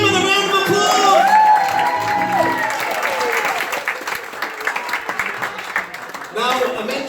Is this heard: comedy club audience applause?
yes